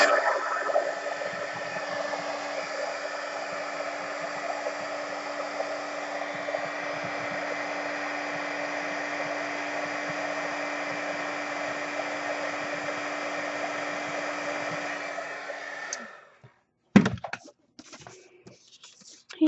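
A heat tool heat-sets embossing powder on a paper card, blowing a steady, close, hair-dryer-like whir for about sixteen seconds before switching off, followed by a few faint handling noises.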